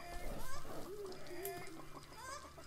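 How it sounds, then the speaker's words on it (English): A chicken clucks inside an indie video game, a few short nasal clucks and squawks at moderate volume over a faint ambient game background. "I can hear a chicken."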